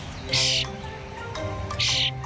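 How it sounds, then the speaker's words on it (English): A small bird chirps after landing on a person, giving two bright, close bursts of high tweeting about a second and a half apart over a steady low background. "A bird just landed on me."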